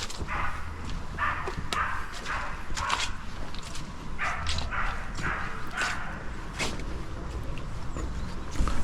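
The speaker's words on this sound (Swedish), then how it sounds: "Jag tycker alltid det är en massa hundar ute och skäller när jag fotograferar." A dog barks intermittently from the far side of a lake on an autumn day, distant yips and barks repeating over steady outdoor ambience near a small pier.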